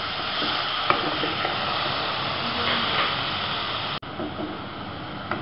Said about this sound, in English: Saute it for a minute. To this we'll add green capsicum.